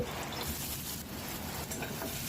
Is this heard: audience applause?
no